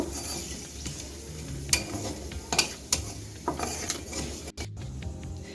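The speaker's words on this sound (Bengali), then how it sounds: "এখন ফোড়নটা আট থেকে দশ সেকেন্ড ভেজে নেব" Dried red chilies and bay leaves fry in hot oil as a tempering for chana dal, giving a steady low sizzle broken by a few sharp utensil clicks and scrapes, with no talking.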